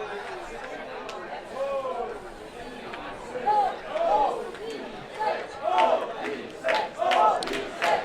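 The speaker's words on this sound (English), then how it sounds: "And the crowd is cheering for Odyssey." At the outdoor ultimate frisbee mixed final between Odyssee and Union, a crowd of spectators shouts and chants for Odyssee in swelling bursts over a constant murmur of chatter nearby.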